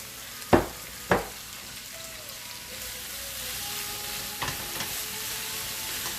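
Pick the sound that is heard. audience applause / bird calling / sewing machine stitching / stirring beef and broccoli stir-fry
stirring beef and broccoli stir-fry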